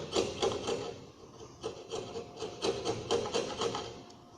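A hand chisel, held without a mallet, shaves wood fibers on a cross-lap joint, making soft scraping strokes in a rough rhythm of quick, faint rasps.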